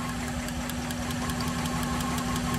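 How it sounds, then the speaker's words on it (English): Car engine idling steadily with one spark plug wire pulled during a cylinder balance test, giving a continuous low hum with a rough, slightly knocking pulse at a dropped RPM, close and alone. "So I'm going to go ahead and pull this, and I'm going to pay attention to our RPM drop."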